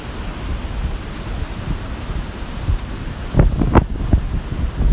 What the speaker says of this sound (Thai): ลมแรงแล้วก็ฝนก็มา 10 นาที แล้วก็หยุดกัน